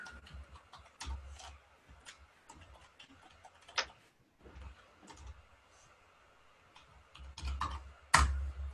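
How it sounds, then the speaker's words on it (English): Keys on a computer keyboard are tapped in a live trading room, giving irregular, fairly faint clicks in short runs with a few louder knocks. "Let me get it typed in."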